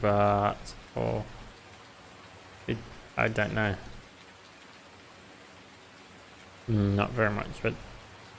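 Steady rain falls in Farming Simulator 19, a continuous soft hiss running beneath intermittent bursts of talk.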